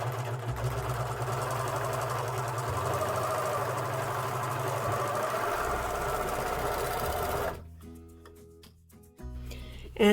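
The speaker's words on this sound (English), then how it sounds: "Then you're going to serge this seam." A serger sews a seam on bear overalls pants, running as a steady, close mechanical hum and rapid stitching chatter for several seconds before stopping, followed by brief faint handling noises.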